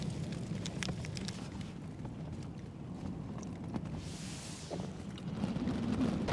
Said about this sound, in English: Yeah, the wind's really got up now.